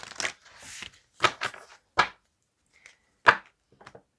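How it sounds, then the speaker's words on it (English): Several short bursts of tarot cards being shuffled and riffled, close and crisp, separated by brief silences. "I also like to shuffle on camera just so you can see and know that, a good shuffle has been done."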